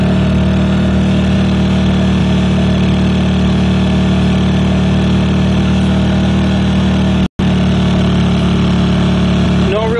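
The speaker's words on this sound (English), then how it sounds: "Let's see what happens though when we turn the engine down to standard." A Generac portable generator engine runs at a steady, loud drone with a constant hum and buzzing harmonics, unbroken except for one instant dropout near the end.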